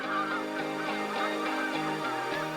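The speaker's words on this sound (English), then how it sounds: "thousands of Canadian geese traveling south for the winter cross Minnesota" A large migrating flock of Canada geese honks over Minnesota, many overlapping calls forming a dense, continuous clamor at moderate distance.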